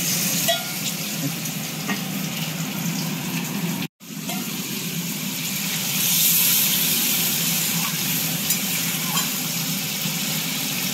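Fish frying in a hot pan of oil gives a continuous close sizzle and crackle, with stirring scrapes throughout and a brief cut partway through, no talking.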